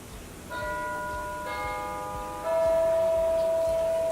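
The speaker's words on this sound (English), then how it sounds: "that's my doorbell" A home doorbell chimes in clear sustained bell-like tones, entering in layered steps that build and linger, ending with a sharp louder knock or clatter right at the close.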